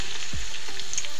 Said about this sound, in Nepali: तेल लगाइसकेपछि लाउँदैछु लसुन, प्याज।